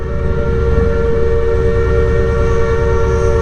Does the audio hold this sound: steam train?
yes